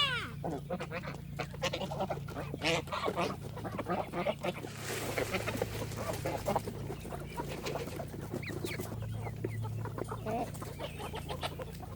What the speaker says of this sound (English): Petting goose.